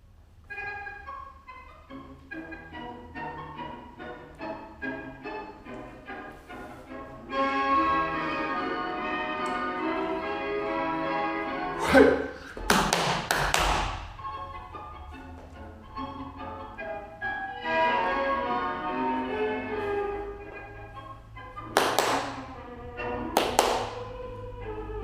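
A tango recording plays with clipped, rhythmic melodic notes in short phrases and two sudden sharp percussive bursts about ten seconds apart, at moderate volume with no talk.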